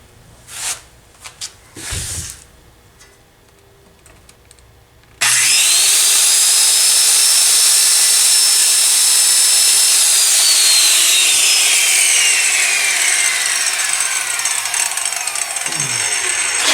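A few knocks and handling sounds give way to a loud power saw biting into a wooden branch to cut thin rounds for runes, a sustained close whine that drops in pitch as the cut ends.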